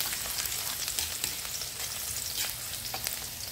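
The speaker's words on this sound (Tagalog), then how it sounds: "sasangkot na tayo ng ano, bawang" Garlic sizzles and fries in a hot pan for a Filipino coconut shrimp dish, a continuous loud crackle with occasional stirring scrapes.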